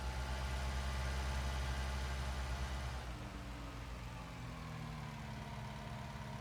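A tractor engine idling in Farming Simulator 19, a low steady rumble that drops to a softer, lighter hum partway through, with no voices.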